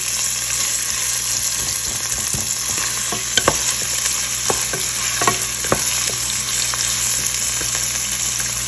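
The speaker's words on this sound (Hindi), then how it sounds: "प्याज हमें ज़्यादा जो है वो जलाना नहीं है, बस लाइट गोल्डन सा कलर हमें इसके लाना है।" Onions fry in a pan toward light golden for a bhindi dish: a loud, continuous sizzle with scattered scrapes and taps of a stirring spoon, no voices.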